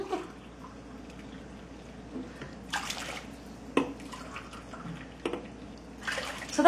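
Hot water being measured and poured for cooking rice, a few short pours and splashes with small drips and clinks, close and intermittent over a quiet background.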